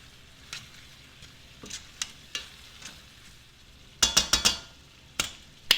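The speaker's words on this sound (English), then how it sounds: "we're just going to mix this up a little bit because I just added the fresh thyme" Jerk-seasoned chicken with fresh thyme stirred in a pot for Jamaican curry chicken: soft scraping under a faint sizzle, then a burst of sharp metallic clanks of spoon against pot near the end.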